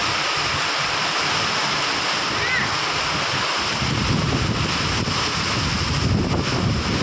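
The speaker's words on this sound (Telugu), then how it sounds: "ఇలాగ నిలబడ్డ దగ్గర నీళ్లు చూడండి" Floodwater flowing around a house makes a steady, loud rushing roar, with wind buffeting the microphone and a voice briefly under it.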